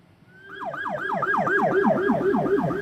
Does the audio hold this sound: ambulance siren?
yes